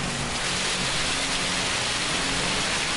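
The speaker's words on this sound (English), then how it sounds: "Just listen to the splash out there when the rain comes in" Rain splashing on the race track in the Gran Turismo 7 racing game, a steady, dense hiss of spray that holds at the same level throughout, with no voices.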